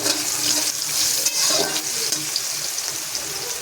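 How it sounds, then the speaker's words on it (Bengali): Sliced onion petals frying in a pan, giving a steady, bright, hissing sizzle with no voices. "পেঁয়াজটা ভাজা হয়ে গেছে"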